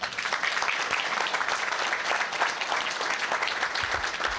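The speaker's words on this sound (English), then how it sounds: "I think we need another round of applause" Sustained applause from a seated audience at a retired teachers' association spring meeting in Houma, Louisiana, steady dense clapping filling the room for several seconds with no speech over it.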